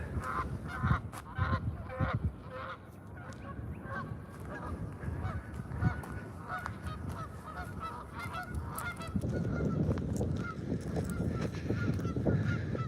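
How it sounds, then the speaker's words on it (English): A goose on a farm pond honks repeatedly in short nasal calls, moderately close, over low outdoor background rumble that grows slightly louder toward the end. "Looks like we've had another goose move in."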